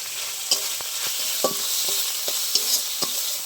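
Cumin and turmeric spice paste frying in oil for a fish curry, a steady sizzle punctuated by several sharp spatula scrapes and taps against the pan.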